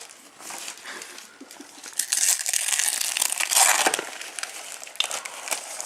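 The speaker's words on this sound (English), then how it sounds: "Strip the paper off of these." Christmas wrapping paper is ripped and crumpled off presents at close range in bursts of crinkling and tearing that swell and fade over several seconds.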